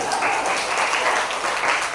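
A Daegu lecture crowd claps for a speaker in a dense, even wash of applause that holds steady throughout, fairly close and full, without clear speech over it.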